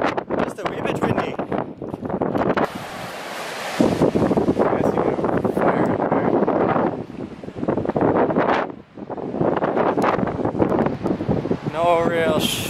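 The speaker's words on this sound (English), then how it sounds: "Just a wee bit windy." Gusty wind roars and buffets the microphone almost continuously on an exposed spot in Taiwan, rising and falling, with a brief lull and a short voice near the end.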